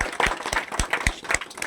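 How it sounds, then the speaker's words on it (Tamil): An audience claps together at a church anniversary celebration in Tamil Nadu, a brief burst of close, uneven hand claps from a small crowd with a faint voice underneath. "கைத்தட்டி வாழ்த்து சொல்லுவோம்."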